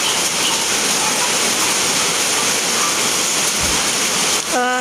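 Flooded Marikina River during high water, rushing and roaring as a steady broadband wash, loud and continuous throughout, close by, with no talk.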